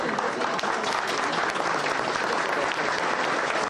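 A crowd gives loud, sustained applause as Gabriela Firea files her candidacy for Bucharest's general mayoralty, a thick, even roar of clapping that fills the whole stretch before cutting off.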